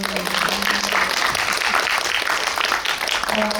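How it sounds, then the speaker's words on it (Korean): Sustained audience applause fills the room at a Korean film screening Q&A, a dense, steady patter of many hands at even loudness with a faint voice briefly audible beneath it. "박수 한번 주세요"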